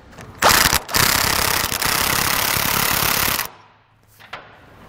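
A 19 mm socket wrench is run down onto a flange nut while fitting a fifth wheel mount on a Ram truck. The result is a loud, close, sustained buzzing rattle lasting about three seconds, followed by a few faint clicks.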